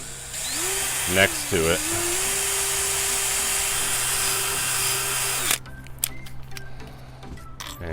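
A power drill bores a hole through a boat's gel coat for windshield mounting, a loud steady whine lasting several seconds with short pitch shifts, then stopping abruptly; someone speaks briefly afterward amid small handling clicks.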